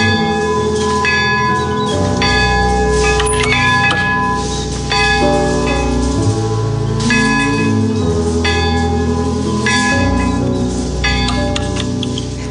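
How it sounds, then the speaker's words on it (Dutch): Church bells ring out loud and close in a village church tower, repeated tolling strikes overlapping with long ringing overtones that sustain continuously throughout, with no talking. "Mag ik eens de klokken luiden?"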